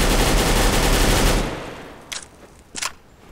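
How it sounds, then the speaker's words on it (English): Galil assault rifle in the game Counter-Strike: Global Offensive fires a loud, rapid automatic burst for about a second and a half, then two short separate bursts follow against near silence. "I will say that the Galil does have a little bit more kick to it than perhaps you're used to."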